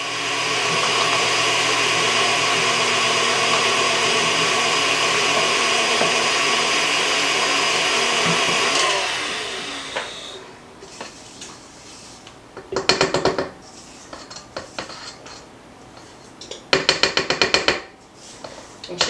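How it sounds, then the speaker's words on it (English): Baking soda and flour being whisked together in a mixing bowl: a steady, loud motorized whirring for about nine seconds, then quieter scraping with a few sharp clinks against the bowl. "We're going to just whisk that together."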